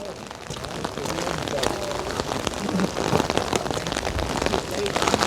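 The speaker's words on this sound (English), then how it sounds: "I know that you can hear now the sound of the rain" Rain pattering down outdoors at Tel Hebron, a continuous crackling hiss of drops striking nearby surfaces, building slightly louder toward the end while someone talks beneath it.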